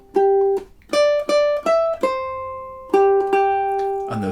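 A ukulele picks out the melody of a song in clear, single plucked notes, close and bright, with a short pause midway and no voice.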